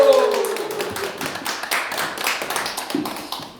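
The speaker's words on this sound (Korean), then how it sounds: "큰 우리 박수와 환호로 맞이하겠습니다" An audience at a Thursday special lecture on alleged election fraud claps to welcome the guest lecturer, a scattered run of hand claps and taps with voices mixed in.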